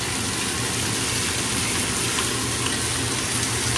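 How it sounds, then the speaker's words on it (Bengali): Chicken frying in a pan with onions, a steady, loud, unbroken sizzle that holds evenly throughout with no talking. "দিয়ে চিকেনটা ভাজা ভাজা একটুখানি করে"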